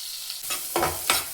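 Chopped onion dropped into hot oil in a pressure cooker, a few short sizzling bursts and stirring scrapes close by, fairly quiet with no talking.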